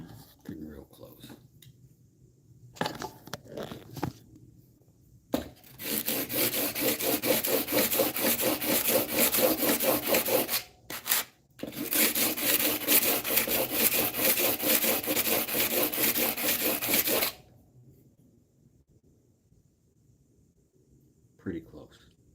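A Stanley No. 4 hand plane blade rubbed back and forth on 80- and 60-grit sandpaper, making a steady, loud, gritty scraping with a rapid stroke rhythm that runs for several seconds, breaks briefly, then resumes before stopping.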